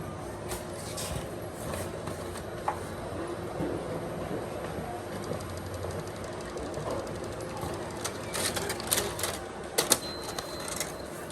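A Canon printer runs off a single-sheet photocopy, its feed and print mechanism chattering and whirring in a steady, busy rhythm at moderate distance, with a few sharper clicks toward the end.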